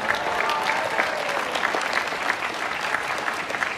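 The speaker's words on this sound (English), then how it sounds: "maybe if you could just applaud" An audience at a Caltech commencement ceremony claps steadily in sustained applause, dense and even throughout, with no voices standing out.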